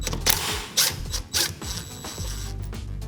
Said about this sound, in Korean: 17mm 볼트를 다시 분리해 주겠습니다.